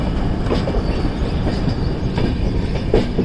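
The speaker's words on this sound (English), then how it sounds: "the train is moving again in the same direction the way we have come" A train rolling along the rails on a journey to Bhuj in Kutch, India, with a steady, continuous rumble and rhythmic clickety-clack of the wheels, close and loud throughout with no talking.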